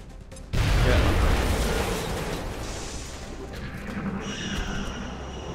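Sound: grenade explosion in the video game XCOM: Enemy Unknown

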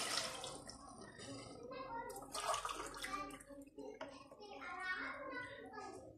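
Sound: hot water poured into pan of fried chicken

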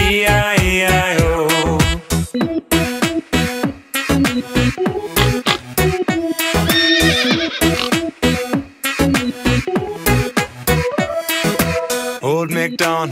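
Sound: horse neighing

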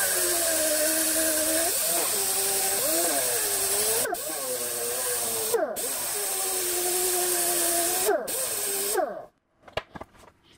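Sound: sanding copper tank with 120 grit disc

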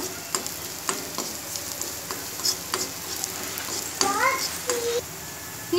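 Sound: sautéing ingredients in a pan for Malabar thari kanji

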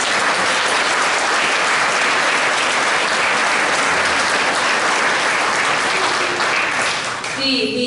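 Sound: audience applause after the balladeers' performance

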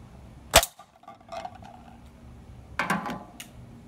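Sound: BB gun shot fired up close

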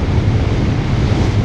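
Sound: strong wind on a motorcycle ride

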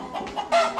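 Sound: chickens clucking

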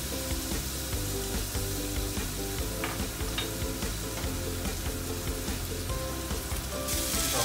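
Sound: stir-frying Chinese New Year dry meat, garlic and fish cake in oil

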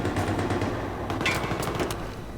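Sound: gunfire in video game Battlefield 3

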